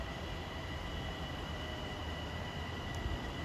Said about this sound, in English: Get to listen to the unique sound of these Bombardier-built M7 cars.